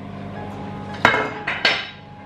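Canned tuna is scraped into a clear bowl with metal cutlery, giving three sharp clinks and taps against the bowl in quick succession over a soft kitchen background hum.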